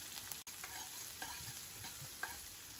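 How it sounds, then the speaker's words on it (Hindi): Onion, chili and garlic fry in hot oil while being stirred, a soft, steady sizzle with faint scraping strokes, fairly quiet and without talk. "इसमें सबसे पहले मैं अपना प्याज, मिर्च और लहसुन डाल रही हूँ। इसे हमें अच्छे से चलाते हुए भून लेना है।"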